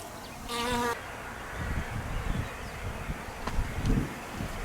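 Honeybees buzz steadily around beehives kept by a beekeeper, with a dense insect drone close by and a brief louder pass near the start as a bee flies near.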